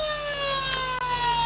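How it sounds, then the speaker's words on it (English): A quarter-time siren sounds at a country Australian rules football match between North Geelong and Bannockburn, a loud, steady sustained wail holding its pitch for the whole stretch, with no talk over it. "there is the siren"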